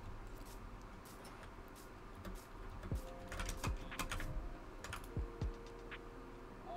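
Computer keyboard keys are pressed repeatedly, enough to trigger sticky keys: scattered sharp clicks over steady background noise, with a few short descending tones mixed in.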